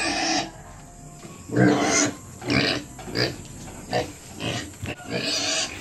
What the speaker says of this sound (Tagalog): So yun yung mga biik natin tol.